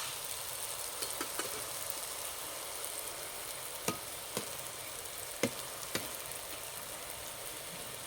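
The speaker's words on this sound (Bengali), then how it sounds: "হালকা আঁচে ভেজে নেব, খুব একটা বেশি জোরে জাল দেব না" Jalebi batter frying gently in warm oil over low heat gives a steady, faint sizzle throughout, broken by a few sharp clicks and light taps.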